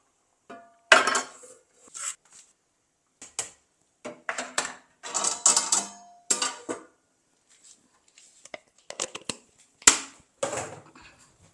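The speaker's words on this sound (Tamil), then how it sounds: "குறைச்சிட்டு கொஞ்சம் மூடி வைக்கிறேன்" Metal clatters on a cooking pot of sambar rice with Mysore dal and vegetables as a lid is handled and set in place, a series of sharp close clinks and scrapes with short quiet gaps between them.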